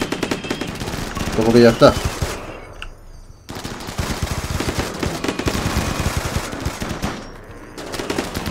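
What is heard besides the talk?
turret firing at the player in RimWorld, a video game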